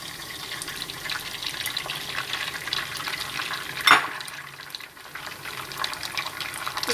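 Eggs frying in a pan while egg fried rice is made, a steady close sizzle and crackle running throughout with one brief sharper splash partway through and no talking.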